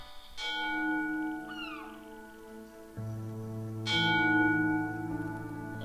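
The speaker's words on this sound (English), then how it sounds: "A bell tolled 2, so it's 2 p.m, I guess." Two bell strikes ring out in The Lost Crown video game, each a bright clang with a long, humming decay, the second louder than the first, over quiet background music.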